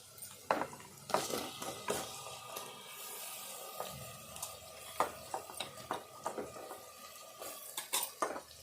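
Goat leg pieces go into a cooking pan over fried onions, giving quiet, close clanks and scrapes of metal utensils against the pan in irregular bursts.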